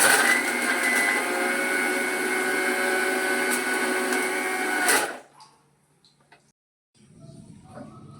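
A kitchen mixer grinder whirs loudly and steadily while grinding neem leaves for juice, running for about five seconds before cutting off, followed by faint handling noises.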